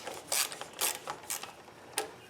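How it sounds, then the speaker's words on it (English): Socket ratchet wrench working on the engine of a Craftsman T100 lawn tractor being repaired; a few sharp, close clicking ratchet strokes spaced about half a second apart, fairly quiet and alone. "I think I might get that easier with coming at it with a socket."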